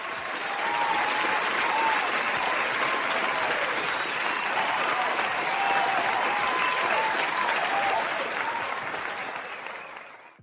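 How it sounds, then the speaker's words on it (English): An applause sound effect played on a livestream: a dense, sustained round of crowd clapping and cheering, loud and even for about ten seconds before fading out at the end. "let's go ahead and throw that round of applause up there for you as well"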